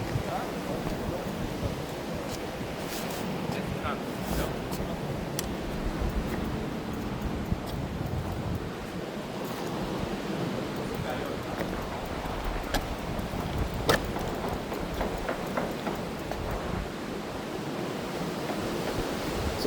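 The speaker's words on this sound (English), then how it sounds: "Windy. Even have waves in the lake." Waves on a lake whipped up by a windy day, a steady broadband wash with gusty wind rumble on the microphone, continuous and moderately loud throughout.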